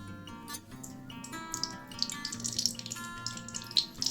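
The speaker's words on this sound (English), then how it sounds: "I'm going to add my oil" Cooking oil pours into a pan in a kitchen, a steady liquid trickle and splash with faint dripping and clinking, quiet and close, no talking.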